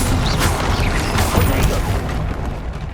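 Confringo and Incendio spells cast in Hogwarts Legacy: dense booming bursts and crackling fiery impacts that run together into continuous loud combat noise with no talking.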